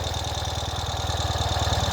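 A 2021 Ural Gear Up Sahara motorcycle engine idles close by with a steady, even pulsing thump, loud and unbroken throughout.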